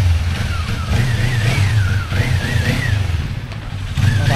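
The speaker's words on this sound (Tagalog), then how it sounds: "Napapangaan ako ng motor." A motorcycle engine passes on a street in Uskudar, a close, loud rumbling drone whose whine climbs and falls as it revs by, with busy traffic noise around it.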